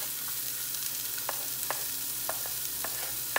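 Sweet pepper frying in a pan for fried rice gives a soft, steady sizzle, broken by a few sharp clicks and taps of a utensil against the pan, close by and without voices.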